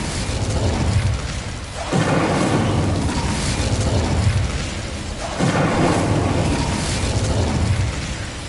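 Incendio fire spells cast in the Hogwarts Legacy video game, loud roaring whooshes of flame repeating in three surging bursts, each swelling then fading, with no voices.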